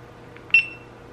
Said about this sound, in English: How'd you like that beep from the GoPro?